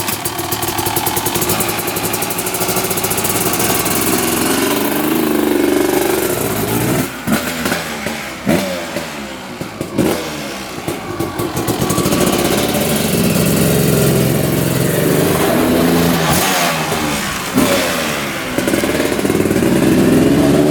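A two-stroke quad runs close by, idling with a rough, steady burble and rising into repeated revs, loud and continuous throughout with no talk over it.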